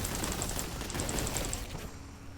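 Rapid gunfire bursts from the shooter game Warhammer 40,000: Boltgun, a quick, fairly faint rattling volley that fades near the end, with no talking.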